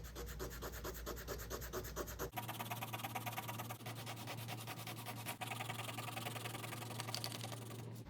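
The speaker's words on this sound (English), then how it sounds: "this is where I'm gonna do my rubbing with my marker to get that transfer." A marker rubbed back and forth on the back of paper to transfer lines, a close, steady scratchy rubbing that changes texture partway through, with no talking.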